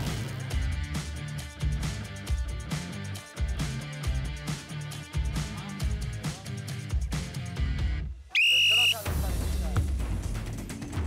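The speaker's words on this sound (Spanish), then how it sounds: "Al final, silbatazo, falta sobre Meli Ramos." A referee's whistle at a televised Exatlón tournament football match gives a short, shrill blast near the end, following several seconds of loud, rhythmic music.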